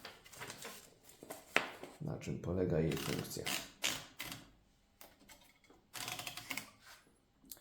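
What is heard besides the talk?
winding paper into an Erika 10 typewriter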